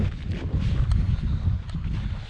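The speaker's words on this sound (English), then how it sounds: "The wind is picking up a little bit now" Gusty wind buffeting a microphone at a rainy campsite, a steady low rumble and roar with a few faint knocks, no voices.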